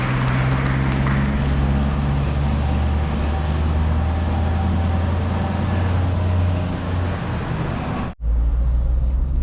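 A Chevrolet Corvette C8 drives away from the National Corvette Museum, heard from inside the car. Engine and road noise rumble loud and steady, then drop out briefly near the end.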